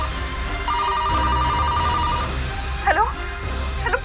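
A telephone rings with a sustained electronic trill in a TV drama, followed by a couple of shorter chirping tones, set against low background noise and some voices.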